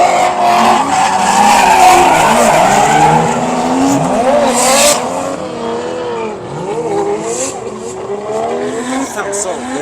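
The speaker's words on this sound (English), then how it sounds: "we gotta watch some drifting." Cars drift at a New Year's Eve car meet, tires squealing and skidding over roaring engines in a loud, continuous wash that eases slightly midway, while people talk nearby.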